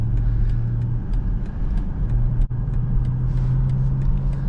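A 2024 BMW X7 xDrive40i accelerates in sport mode, heard from inside as a steady, deep engine hum with a tonal drone that briefly dips and then picks up again.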